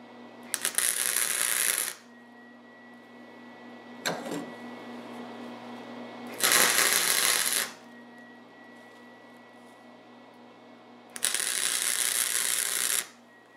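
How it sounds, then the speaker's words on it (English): Metal file scraping back and forth on a weak spot of a homemade generator muffler exhaust extension, three long rasping bursts and a short one, close, over a low steady hum. "I'll grind that a little bit with a file"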